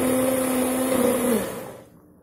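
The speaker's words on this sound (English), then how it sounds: "And we'll blend it. Added more milk." A blender whirs loudly and steadily as it purees a fruit shake with milk, its motor whine holding for over a second before winding down and falling quiet.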